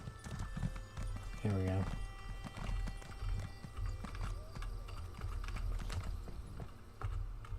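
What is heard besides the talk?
horse hooves clip-clopping in Elder Scrolls Online video game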